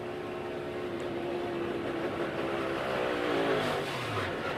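A NASCAR race car engine at Daytona drones steadily, then its pitch drops as the throttle lifts, heard from a distance amid continuous track noise, with no voices.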